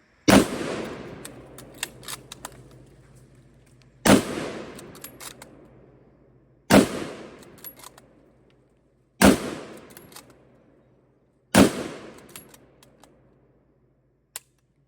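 Five sharp, loud rifle shots from a Lee Enfield No.5 Mk1 Jungle Carbine firing .303 British, each a hard crack with a ringing decaying tail, spaced a few seconds apart as the bolt is cycled, the third coming noticeably quicker.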